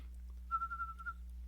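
A single soft, steady whistled note held for under a second, faint and close, against a quiet low hum.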